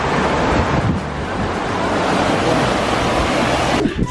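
Fast-flowing water running out of a lake in Banff, a loud, continuous rushing roar heard close by, mixed with gusty wind buffeting the microphone and no speech.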